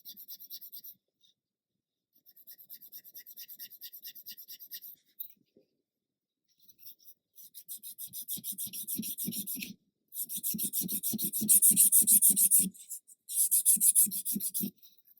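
Sandpaper rasps against the top and outer surfaces of a 1/400 scale Queen Mary 2 model ship in close, rhythmic back-and-forth strokes. The bursts come in several runs with short pauses and get stronger toward the end.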